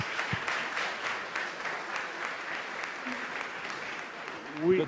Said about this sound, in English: Another round of applause for this great panel.